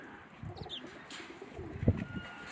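Pigeons coo softly on a rooftop in Mandi Bahauddin, with a few faint chirps and a brief flutter amid light background noise.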